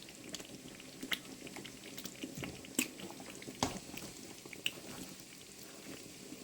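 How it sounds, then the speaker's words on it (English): Tomato stew simmering in a pot over lowered heat, faint soft bubbling and occasional small pops and clinks at low volume, no voices. "I'm gonna stir this and lower the fire and let it simmer."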